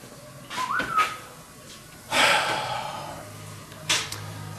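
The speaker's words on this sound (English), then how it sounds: "Who's whistling?" In a shop full of pinball machines, someone gives a single short, rising whistle, fairly faint over background room noise, followed by rustling and shuffling.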